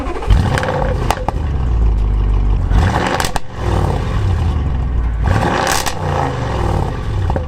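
An Audi RS6 fires up and revs, a loud near roar that rises and falls in two or three sharp blips, with mechanical clatter and whir between the bursts.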